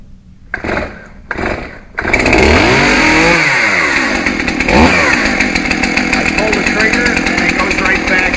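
A small chainsaw engine is pull-started. Two short rattling cord pulls come first, then it catches and runs loudly, with the engine revving up and settling into a rough, buzzing idle.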